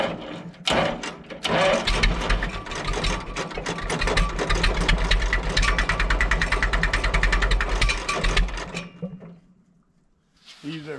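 A Super W6TA diesel tractor engine is started cold. It cranks, catches and settles into a loud, close, rhythmic clatter for several seconds, then dies away near the end.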